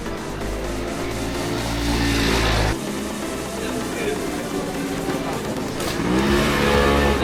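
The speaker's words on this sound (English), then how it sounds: "You can see the motorcycles going through the market." Motorcycle engines rev and drone close by as they pass through a market in Marrakesh, mixed with busy crowd chatter and street noise.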